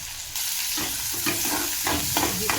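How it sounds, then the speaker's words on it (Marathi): Finely chopped onion and minced garlic frying in oil in a pan for a ghol bhaji (purslane) dish, a bright steady sizzle broken by the scrape and clatter of a spoon stirring, with no talking. "बारीक चिरलेला कांदा, हे सर्व तेलामध्ये छान असं फ्राय करायचं आहे"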